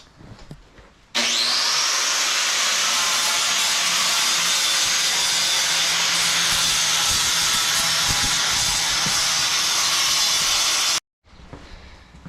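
A flap disc grinds a welded twin cam chopper motorcycle frame in one loud, steady, harsh hiss that runs about ten seconds, then cuts off abruptly.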